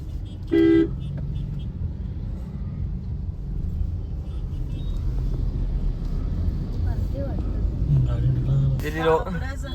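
Traffic on a jammed bridge near Lonavala, with a car horn tooting briefly near the start and again near the end over a steady engine rumble, while people talk throughout.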